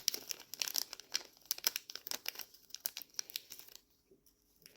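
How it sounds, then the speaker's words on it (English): A package of bonded sealing washers is cut and torn open, giving close, dry crinkling and tearing bursts of plastic packaging that stop near the end, leaving quiet. "I'm going to cut open my package of bonded sealing washers and take one out."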